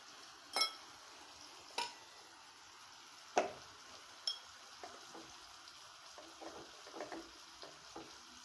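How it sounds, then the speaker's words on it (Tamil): Spice powders are stirred into frying oil and tomato for a cowpea bean curry, with a handful of spoon clinks and scrapes against the pan over a quiet sizzle. "சேர்த்து கிளறி விட்டுக்கோங்க"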